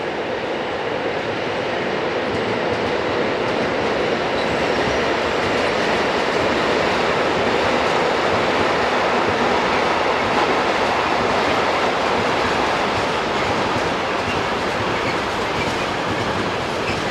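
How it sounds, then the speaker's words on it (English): A long freight train hauled by a pair of Re 4/4 electric locomotives rolls steadily past at close range, its loud continuous rumble and wheel clatter holding even throughout. "Most freight services are powered by a combination of RE66 and RE44 locomotives"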